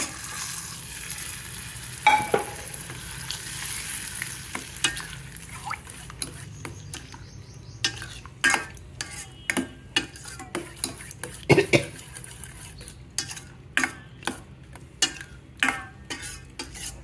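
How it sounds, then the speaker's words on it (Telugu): Buttermilk rasam being stirred after tempering, onion, curd and salt go in, with a spoon scraping and clinking against the pot in irregular bursts over a faint sizzling background, close and fairly quiet. "ఇప్పుడు దీంట్లో ఈ తిరగమాత ఇవన్నీ కలిపి ఇందులో వేసేసుకోవాలండి."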